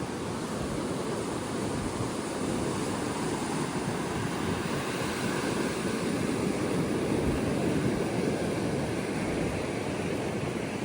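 Steady broadband surf and wind wash at Ba Kian Tung Beach on Koh Lanta, Thailand, a continuous roar of breaking waves with gusty wind across the microphone for the whole stretch, no voices.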